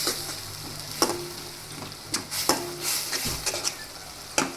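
Taro leaf bhaji, with red chili powder just added, crackles softly in a pan while a spoon stirs and clacks against the metal a few times, sharp taps standing out over the low sizzle.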